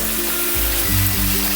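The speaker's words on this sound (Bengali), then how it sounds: "পেঁয়াজটাও আমি ভেজে নেব" Onions fry in oil for a fish-oil dish, a dense, steady sizzle close up with a few low bumps from stirring, and no talk.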